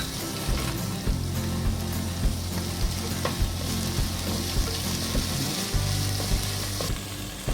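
Pieces of beans, carrot and bottle gourd frying in a pan for bisi bele bath, a steady close sizzle with occasional stirring and scraping throughout and no talking.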